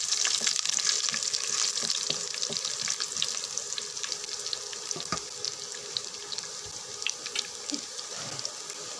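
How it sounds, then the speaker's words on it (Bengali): Garlic fries lightly in oil, giving a soft, steady sizzle with faint crackles and occasional stirring clicks, alone and fairly quiet throughout. "রসুনগুলো একটু ভেজে নেব হালকা করে"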